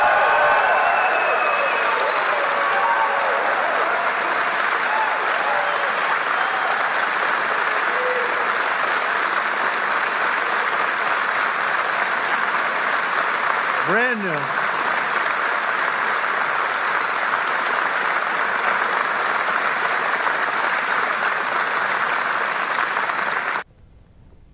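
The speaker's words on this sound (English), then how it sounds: "You know how sometimes you hear a reaction or cheering and clapping" Sustained applause and cheering fill a room at a presidential cabinet meeting, a dense crowd clapping steadily for over twenty seconds with a brief spoken phrase near the start before it stops abruptly.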